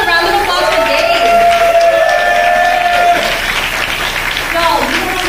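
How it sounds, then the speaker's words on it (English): An evening audience at a Movement School NYC organizer event applauds and cheers for a co-founder, with steady, loud clapping filling the room and a few voices calling out above it. "Everyone give a round of applause for Dave."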